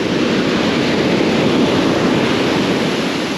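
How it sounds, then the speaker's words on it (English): Large ocean waves crash and roll onto a surf beach in a steady, loud, broadband roar with wind buffeting the microphone, continuous throughout with no voices. "that's a big wave"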